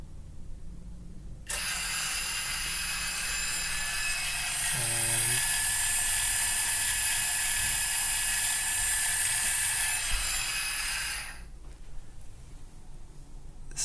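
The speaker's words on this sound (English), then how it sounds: "So I just have this open loop controller now, and you can use that to spin the motor." A small electric motor spun by an open loop controller with a quadrature encoder gives a steady high mechanical whine, starting abruptly, holding for about ten seconds, then cutting off, close and alone.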